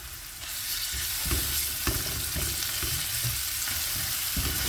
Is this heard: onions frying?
yes